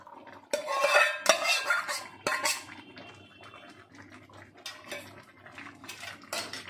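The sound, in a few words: prawns poured into a pot of boiled taro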